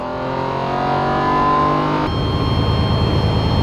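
A supercar engine at full throttle, revving hard with a rising harmonic whine, then a sudden gear change into a deeper, rougher roar that keeps pulling loudly.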